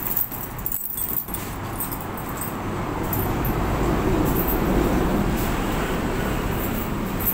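Keys jangling and rattling as someone digs for them outdoors, a brief bright clatter near the start followed by steady road traffic noise for the rest.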